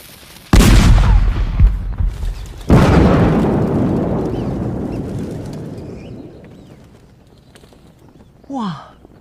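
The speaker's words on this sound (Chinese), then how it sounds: "这炮太厉害了吧！" Cannon fire in a historical costume drama: two loud booming blasts a couple of seconds apart, each followed by a long rumbling decay, with a brief bird-like chirp near the end and no speech over the shots.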